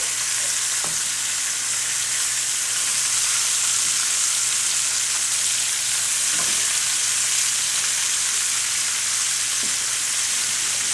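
Pork chops frying in a pan, a steady loud hiss and sizzle that fills the whole stretch, with a few faint clinks and no talking.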